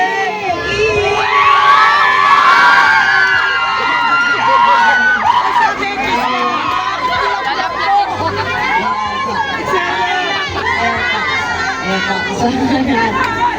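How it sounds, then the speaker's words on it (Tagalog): A lively crowd at a New Year celebration erupts in loud, sustained cheering and high-pitched shrieks as a couple kisses, dense excited voices and shouting filling the whole stretch close up. "Ang saya ng crowd at sobrang kinikilig po sila sa nangyayari"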